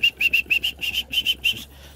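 A pigeon taking off with a rapid run of wing flaps, heard as a series of close, even bursts that fade after about two seconds, with no voices.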